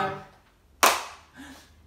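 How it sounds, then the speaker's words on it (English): A single sharp hand clap sounds close, with a faint voice just before and after it. "Give a little clap."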